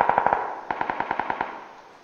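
Automatic gunfire in the video game PUBG: a rapid burst of four shots, a short pause, then a longer burst of about eight, each crack sharp and echoing with a fading tail.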